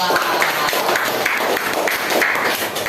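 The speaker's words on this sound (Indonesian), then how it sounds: "tepuk tangan untuk kelompok 2" Classroom applause for a student group after a presentation, a steady patter of many hands clapping together at moderate loudness for a few seconds, with a faint voice underneath.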